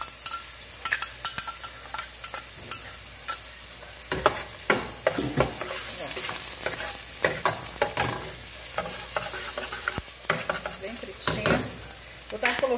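Onion and garlic fry in a hot pan, hissing steadily while a spoon stirs them. Irregular scrapes and clicks of the stirring sit on top of the sizzle, close by, with no voices.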